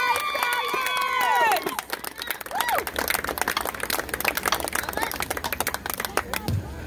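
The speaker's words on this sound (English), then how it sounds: "Big round of applause for your South Columbus High School marching stallion" A stadium crowd claps and cheers for the South Columbus High School marching band at a high school football halftime show, with loud, dense, sustained applause following a brief tonal passage at the start.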